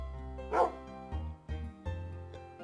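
A dog in the Minecraft video game barks four times in about three seconds, one sharp louder yelp followed by three shorter, evenly spaced barks, heard clearly with nothing else around them.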